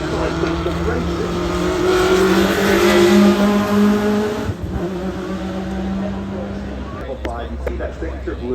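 A Chevy Chevelle race car trimmed in period style at Goodwood Festival of Speed, its engine droning and rising in pitch as it passes nearby, then fading, with someone talking over the sound throughout.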